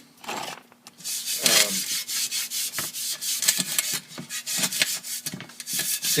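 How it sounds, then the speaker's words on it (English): A scuff pad scrubs Picklex 20 into a metal seat pan, a steady rhythmic rasping and rubbing with repeated back-and-forth strokes, close and fairly loud, with no voices. "Just work it in with a scuff pad."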